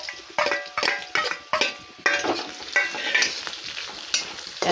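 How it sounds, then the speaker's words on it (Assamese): Chopped onions sizzle in a hot pan after paneer has been fried, with a spatula scraping and clinking against the pan in repeated bursts roughly every half second, close and loud without any talk. "পিঁয়াজখিনি অলপ ভালকৈ ভাজি ল'ব লাগিব"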